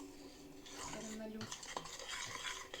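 A spoon stirs a homemade ice cream mixture in a bowl, giving continuous faint scraping and clinking against the sides with a steady rhythm and no talk.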